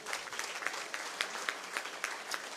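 An audience in a hall breaks into applause, a dense, sustained patter of many hands clapping with sharper individual claps rising above the wash.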